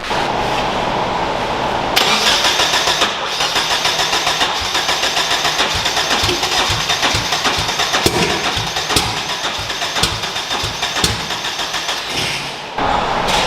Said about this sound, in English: it doesn't sound like it's running on more than one cylinder